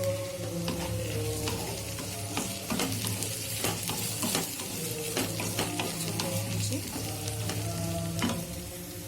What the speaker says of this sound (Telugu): ఇప్పుడు మనము ఇందులో బెండకాయ ముక్కల్ని అండ్ కరివేపాకు వేసేసి